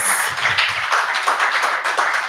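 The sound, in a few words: applause from the audience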